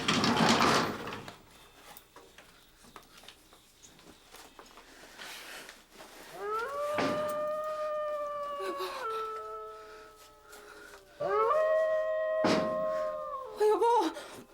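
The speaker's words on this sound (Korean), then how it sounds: "산에서 여우 우는 소리가 쭉 들려오더라고요" A fox cries out in the mountains at night: two long, wavering, high-pitched howls, each bending up and down in pitch, rise out of a quiet, dark background.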